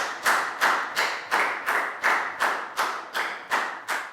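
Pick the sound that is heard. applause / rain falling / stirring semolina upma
applause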